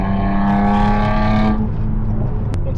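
A Toyota Camry TRD engine holds a loud, steady rev in low gear, then drops away, with a short sharp click near the end.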